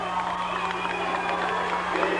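A crowd at a high school basketball game roars steadily, a dense wash of cheering and shouting voices in a gym, with a constant electrical hum underneath and no single voice standing out.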